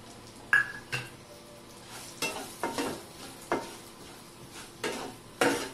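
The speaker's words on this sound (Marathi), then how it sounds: "हे सगळ्या ड्रायफ्रूट्सचे केलेले तुकडे फ्राय करून घेऊया." Chopped dry fruit pieces frying on low heat, a quiet sizzle punctuated by a series of separate spoon scrapes and taps against the pan, close by.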